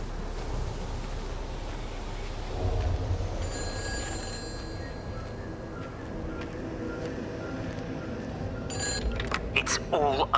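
A telephone rings in the video game Everybody's Gone to the Rapture, with bursts of ringing over a low ambient rumble, followed by a cluster of sharper tones near the end.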